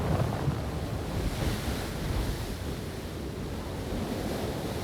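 Strong wind buffeting a microphone at a desert dig site, a continuous loud roaring rush with gusty fluctuations and no voices.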